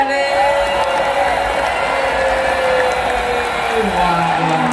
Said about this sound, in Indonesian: Yang di atas tepuk tangan aja deh.